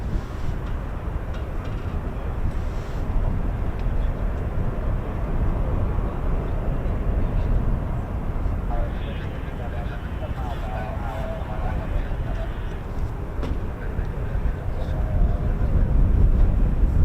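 A C-130 military transport aircraft passes overhead with a loud, broad, continuous roar that swells slightly toward the end, with faint voices in the background.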